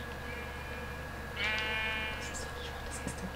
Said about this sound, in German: Okay, jetzt kommen meine Schafe.